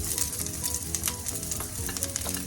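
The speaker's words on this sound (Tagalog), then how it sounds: "Lagay na natin ang ating garlic. Nagpainit na ako ng mantika." Garlic fries in preheated cooking oil for paksiw na tulingan, crackling and sizzling densely and continuously at close range with scattered sharp pops, with no voices.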